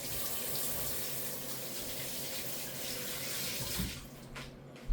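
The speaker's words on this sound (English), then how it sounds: "So let me just rinse my hands here quick." Kitchen tap running steadily while hands are rinsed during roast pork and rib prep, a close continuous splashing wash of water that cuts off near the end, followed by a couple of light knocks.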